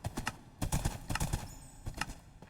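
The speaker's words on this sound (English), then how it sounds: "Ha! Horse." Horse hooves clip-clopping in the Minecraft video game, in quick irregular clusters of sharp clops, fairly close, with a brief faint tone in the middle.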